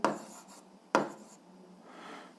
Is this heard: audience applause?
no